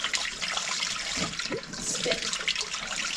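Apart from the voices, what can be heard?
water purging out into a sink from a heating pipe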